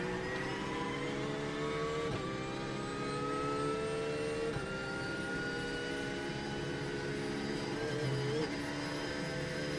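Ford Mustang race car in iRacing, a sustained, droning engine note climbing gradually in pitch under acceleration, loud and continuous, with brief gear-change dips and a voice talking over it.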